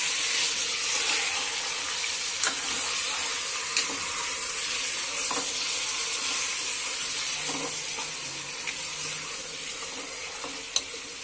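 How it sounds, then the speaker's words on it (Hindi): Chunks of meat fry in a pot of oil for Rogan Josh, giving a steady, dense sizzle that holds throughout, with a few soft scraping stirs and small pops near the end. "गोश्त को अच्छे से फ्राई कर लेंगे।"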